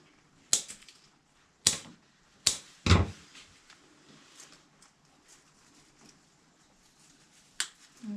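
Sharp snips of foliage being trimmed for a festive grave pot, four crisp cuts in quick succession close by, then quieter rustling and one more snip near the end.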